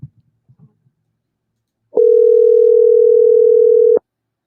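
A steady telephone tone rings out alone for about two seconds while a call is placed back to a radio show caller, after a little faint talk-like sound before it.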